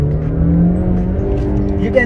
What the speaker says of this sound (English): it makes quite good engine noise, which is again a very nice thing